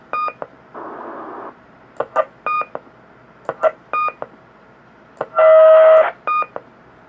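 An RP-80 two-way radio gives short, clean electronic beeps in quick pairs and triplets, close and clear in a quiet room. Two longer bursts of harsh static hiss come between them, one with a steady whistling tone.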